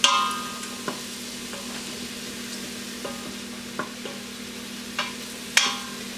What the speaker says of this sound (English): saute for a few minutes until it's starting to brown nicely